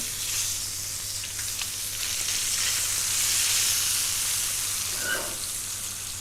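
Swordfish sizzling in a frying pan, a steady close hiss and crackle of hot oil that swells briefly as the fish is turned, with no talking.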